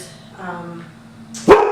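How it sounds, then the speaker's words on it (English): A pet dog gives one loud, sharp bark close by near the end, following a stretch of quiet voice-like sound at home. "Sorry, I have to excuse my dog. She's a barker."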